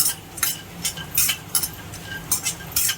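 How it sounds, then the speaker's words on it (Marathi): Almonds dry-roasting in a pan over low heat, stirred with a utensil: evenly spaced bursts of rattling and scraping, about two per second, bright and fairly close. "पहिल्यांदा मी बदाम भाजून घेते"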